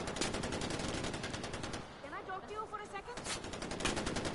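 Continuous rapid gunfire from bullets shot into the air in Far Cry 4, a dense crackling fusillade filling the whole stretch, with a brief melodic tone and a voice partly buried beneath it.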